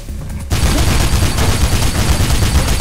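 Gunfire in Mirror's Edge, with a sudden burst of rapid shots that starts after a short quieter moment and keeps going as dense, loud rattling until the end.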